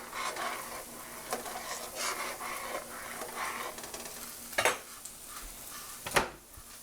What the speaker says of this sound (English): so now I'm going to stir my bacon